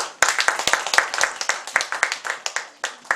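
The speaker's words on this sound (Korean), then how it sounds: "우리 아이들한테 박수 한번 쳐주세요." Members of an audience at a church gathering clap for the children, a loose scatter of sharp, distinct hand claps at an uneven rhythm, heard fairly close with no talk over them.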